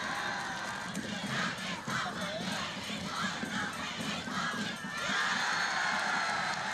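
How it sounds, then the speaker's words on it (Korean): Crowd of spectators at a Korean ssireum wrestling match cheering and clapping, a broad wash of voices and applause at a moderate distance with rising shouts. "관람자들 속에서는 찬사와 박수갈채가 연방 터져 올랐습니다"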